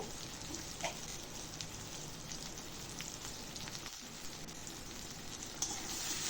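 Taro stolons (kachur loti) with turmeric and salt fry in a pan of hot oil, giving a steady, even sizzle with occasional small crackles and pops.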